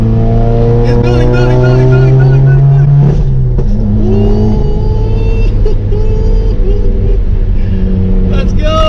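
A Subaru WRX/STI engine climbs through the revs and then drops into throaty downshift blips, loud and close, while people talk excitedly over it.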